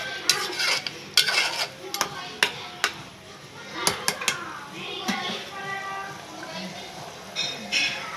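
Keema curry cooking in a pan is stirred with a utensil, giving sharp irregular scraping clicks against the metal over a soft sizzle, with a voice speaking faintly in the background.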